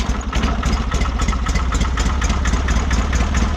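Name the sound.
Wheel Horse 520-H garden tractor engine running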